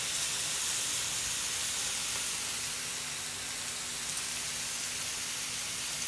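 Pineapple, salmon and shrimp cook together in a pan, giving a steady hiss of steam and sizzle that holds evenly throughout with no voices.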